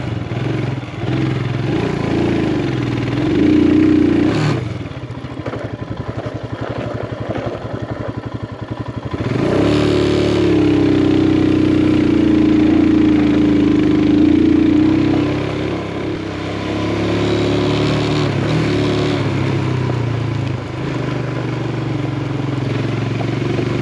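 A motorcycle climbs a rough uphill track toward a hilltop hermitage, its engine loud and close, revving and labouring in surges with a brief drop between, clattering over the terrain with no speech.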